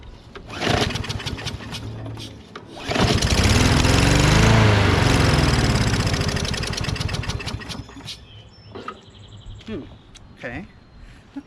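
A Craftsman push mulching lawn mower with a Briggs 550EX engine running rough sputters and pulls, then roars up loudly for several seconds before faltering and dying down into uneven, popping idle sounds.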